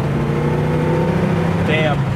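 A 1970 Chevrolet Nova Super Sport's small-block V8 drones steadily at high revs, then briefly shifts pitch as it changes gear at 4,000 RPM, with a voice mixed in underneath.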